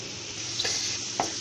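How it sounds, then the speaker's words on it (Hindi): Chopped onion and garlic frying in hot oil in a pan for chicken chow mein, a continuous close sizzle with a couple of brief stirring scrapes. "अब ये फ्राई होगा"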